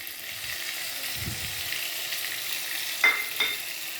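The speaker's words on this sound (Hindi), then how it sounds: "टमाटर हल्की आंच पे इस तरह फ्राई करने हैं" Tomatoes and spices fry over low heat in a kadai, giving a soft continuous sizzle with a couple of brief sharp clinks of a utensil near the end.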